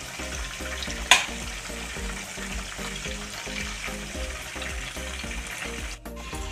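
Pieces of chicken fry in a pan of hot oil, giving a steady, close sizzle with a rhythmic bubbling pulse and one sharp clack partway through. No one speaks.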